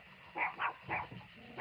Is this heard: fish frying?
no